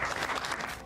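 The White House press pack applauding, a short burst of soft clapping from a small group, fading at the end.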